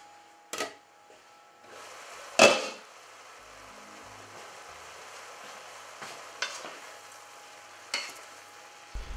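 A spoon scrapes and stirs through a pot of cooking leeks in a few separate, distinct strokes, with a quiet, steady background hiss between them.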